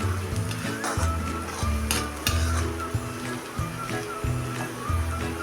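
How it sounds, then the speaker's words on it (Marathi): Onion stir-fried on a medium flame for a hotel-style potato puri bhaji, a loud steady sizzle broken by rhythmic scraping and clanking of a spatula against the pan roughly every half second. "कांदा कसा आपला मऊ व्हायला आलेला आहे अजून एक दोन मिनटं हा मी परतून घेते"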